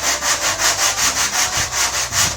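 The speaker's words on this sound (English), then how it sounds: "sanding just on top of the body filler first." Steady back-and-forth sanding of body filler on a Mazda Miata body panel during restoration, a rhythmic rasping stroke repeating about every quarter second, close and fairly loud with no talking.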